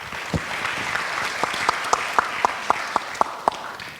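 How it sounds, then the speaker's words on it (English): Audience applause at an arts forum on deliberative democracy. Moderate clapping is heard, with one or two people clapping in a sharp, nearby, rhythmic pattern above the crowd. "Just so we're clear, that applause was for Carson."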